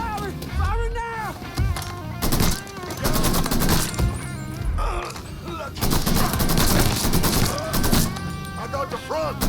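Heavy gunfire in the video game Mafia III, dense bursts of automatic fire and loud shots over pounding music, with shouted voices mixed in throughout.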